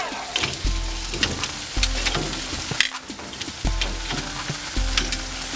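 Steak sears in a hot pan with a steady loud sizzle and crackle, and regular scraping stir or turning noises cut in about once a second. No one speaks.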